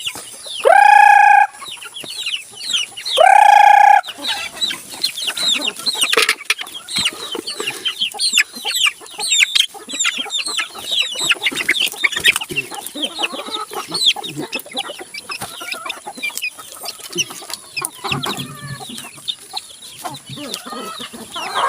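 Two loud rooster crows open, followed by a busy, continuous chorus of chickens clucking and squawking close by while being fed.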